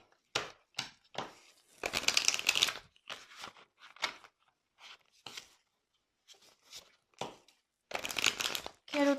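Tarot cards shuffled for a card reading, a run of dry papery riffles and crinkling bursts coming in uneven clusters with short quiet gaps, close and fairly soft.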